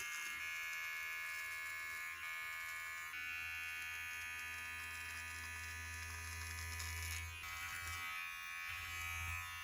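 A Meridian electric trimmer buzzes continuously at close range while trimming leg hair in a shower, its steady motor whine shifting in pitch as it presses against skin, with running water behind it.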